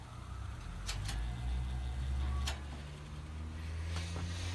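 A vintage K-Mart P-23 motor turning over and spinning freely, a steady low hum with a few sharp clicks on top, fairly quiet and without speech.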